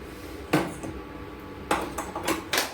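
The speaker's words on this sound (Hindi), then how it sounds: "तो ये देखिए कुकर चढ़ा रहे हैं।" A pressure cooker set down on a home kitchen stove while making chana dal and brinjal curry, giving two sharp metallic clanks spaced apart, then several lighter knocks and rattles of cookware close by.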